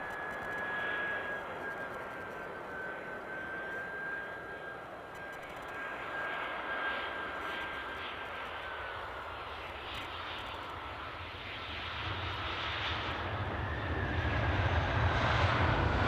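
An EasyJet passenger jet passes at Edinburgh airport, its engines giving a broad, distant roar with a thin high whine, steady for a while and then growing louder toward the end, with no one talking.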